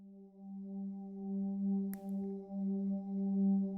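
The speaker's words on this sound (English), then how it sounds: "So on layer B, we've got this sample called Warm Air, which is a synth sample, and it sounds like this." Omnisphere synth sample called Warm Air, a soft sustained pad with a steady low tone and gentle harmonics, held alone at low level with a couple of faint clicks.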